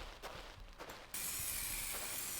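A can of purple spray paint hisses as it coats a bus in a video game, a few short bursts followed by one long, steady, loud spray.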